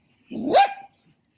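A single dog gives one sharp, close bark that rises and falls quickly, with silence on either side.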